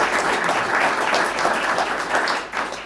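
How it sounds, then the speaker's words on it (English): A room of people at a veterans' town hall gives a round of applause, a steady, fairly loud patter of many hands clapping throughout. "If we can give them a round of applause for having set us up"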